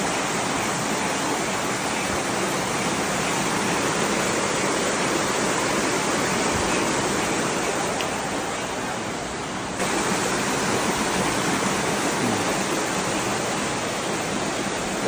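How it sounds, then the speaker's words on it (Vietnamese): A mountain stream flows near the entrance of Bee Cave in Cao Bang, a loud, constant broadband rush of water that continues unbroken and with no talk. "Trước cái cửa hang này có một con suối rất là đặc biệt nha các bạn nhé"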